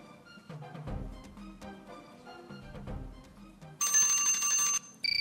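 Near the end, a loud electric bell rings steadily for about a second to mark time up in a quiz, stops, then sounds again briefly. Faint background knocks precede it.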